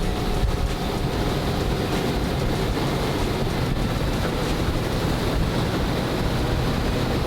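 Steady, broad rushing of water and engine drone from a Vexus DVX 22 boat under way at low cruising speed, with wind buffeting the microphone throughout; no voices.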